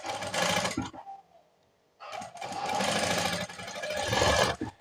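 A sewing machine runs fast, stitching piping thread onto cloth in two loud bursts separated by a brief near-silent pause, with a mechanical whirr close by.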